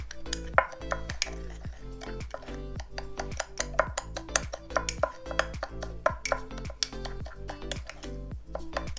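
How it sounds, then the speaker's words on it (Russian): Spoon stirring ground black pepper and spices in a bowl while preparing cured pork fat (salo), giving a steady run of repeated clinks and scrapes against the dish, fairly close and even in rhythm, with no talk. "И здесь все перемешиваем."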